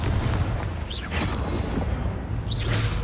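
Bombarda and Confringo explosion spells in Hogwarts Legacy go off: heavy booming blasts and crackling bursts with whooshing sweeps, a steady rumble underneath, two spell effects about a second and a half apart.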